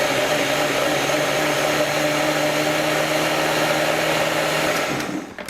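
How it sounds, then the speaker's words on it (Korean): Blender grinding red bean soup with salt, a loud steady whirring motor roar held close for about five seconds before winding down at the end. "한번 갈아 보도록 하겠어요"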